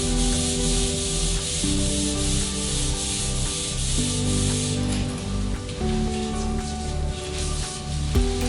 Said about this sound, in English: But for now, we're still doing the turnover wipe down.